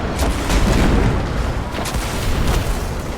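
Deep, heavy booms from a cannon-like weapon in the video game Destiny 2 fire in several quick blasts with rumbling low end, loud and close, no talk.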